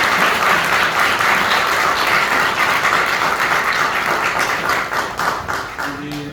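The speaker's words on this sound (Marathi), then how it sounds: "एकदा जोरदार टाळ्या त्यांच्यासाठी." An audience at a celebration gives loud, sustained applause, a dense wash of many hands clapping close by that tapers slightly toward the end.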